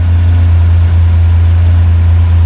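A 1966 Kaiser Jeep CJ5 engine idling after a carburetor swap, a loud steady low rumble heard close up, with no voices.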